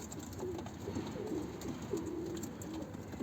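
Pigeons coo softly in low, rolling phrases, several calls overlapping against a steady background hiss.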